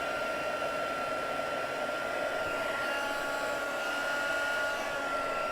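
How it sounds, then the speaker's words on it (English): A heat gun used for heat embossing white powder on a card blows hot air with a steady, loud, hair-dryer-like whoosh and motor whine that holds unchanged throughout, with no talking. "And you do definitely need a heat gun for this."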